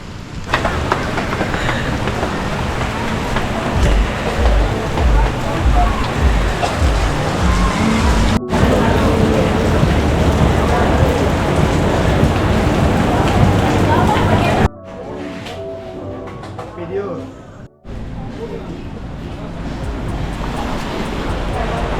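Heavy rainy-season rain on the Gili Islands pours in a dense, continuous roar, easing briefly toward the end before returning, with no voices.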